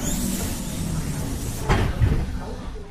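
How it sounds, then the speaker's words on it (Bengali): Train door sliding open in a Bengali horror audio story set on a deserted late-night train: a steady low rumble, then a sudden sharp clack near the middle and a short scraping slide just after, with no voices. "এমন সময় হঠাৎ ট্রেনটির একটা দরজা খুলে গেল।"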